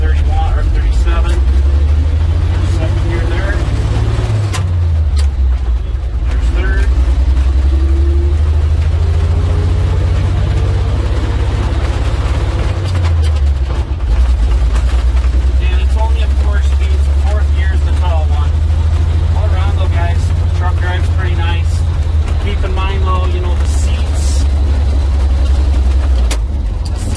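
A 1951 Dodge M37 military truck engine idles loudly with a deep, steady low rumble that shifts pitch a couple of times, while someone talks over it throughout.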